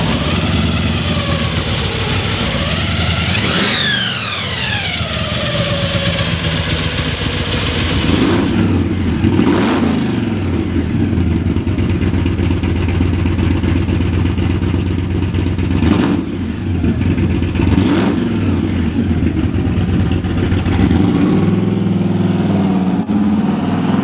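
A 1959 Chevrolet Apache truck engine idles with a steady rumble, then revs up sharply several times, each rise and fall heard loud and close with no talking.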